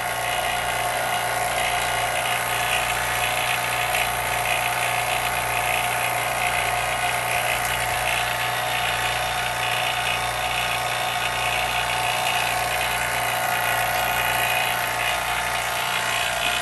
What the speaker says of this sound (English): We recommend running your pump for 15 minutes or more.